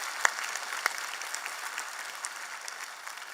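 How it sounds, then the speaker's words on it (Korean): Church congregation applauding volunteers during a Sunday worship service, a faint, even patter of many hands in a large room, with a couple of sharper claps near the start. "이거 진짜 수고하고 애쓰신 분들이 박수 한번 쳐야 돼요"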